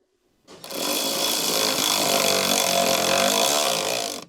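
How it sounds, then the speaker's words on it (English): An electric impact wrench with a 14 mm short socket tightens a rear side step bracket nut on a 2011-on Ford Explorer with the 3.5L engine. It gives one loud, steady mechanical whirr that runs for about four seconds with no talk. "For the rear bracket, use the medium 14 mm short socket with the medium electric impact wrench to tighten it."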